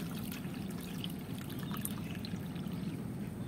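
Water poured from a small container into the soil of a potted gardenia, a steady close trickle and splash that runs unbroken from start to finish with no voices.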